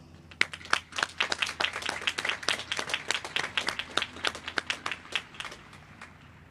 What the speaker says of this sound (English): Let's now take a moment and applaud your parents and loved ones.